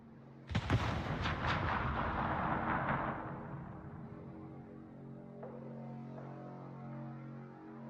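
Naval gunfire in World of Warships: a heavy cannon boom hits at once and rolls into a long, dense rumble of shellfire that slowly fades into a low, steady hum.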